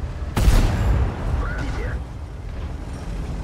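A single loud tank cannon shot in World of Tanks cracks out early, then a short rumbling tail fades into continuous battle ambience.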